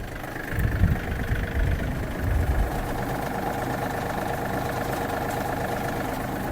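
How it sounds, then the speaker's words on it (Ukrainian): A Yanmar US-324 mini tractor runs steadily at close range, driving its PTO shaft and tiller blades with a loud, continuous engine drone and mechanical whir, plus some rough low rumbling near the start. "Ось так працює кардан. Ось так працюють ножі."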